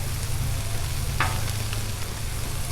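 Shrimp and smoked sausage sizzle on a Blackstone griddle during a Cajun stir fry, a close, steady frying hiss with one sharp utensil clink partway through, and no voices.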